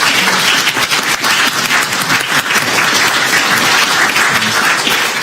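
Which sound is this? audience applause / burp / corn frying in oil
audience applause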